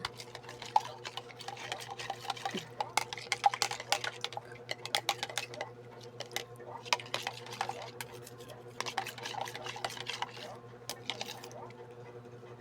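A spoon stirs a cup of barley drink to mix it well, giving quick close clinks and scraping ticks in irregular bursts against the container.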